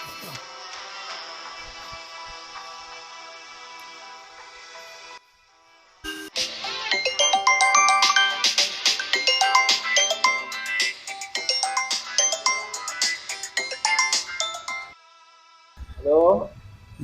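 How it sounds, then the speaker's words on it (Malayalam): Ringing tone of an outgoing phone call: steady electronic tones, then a brief gap and a busier melodic ringback tune, ending as a voice answers. "ഞാൻ ഷിയാബിനൊന്ന് വിളിക്കട്ടെ."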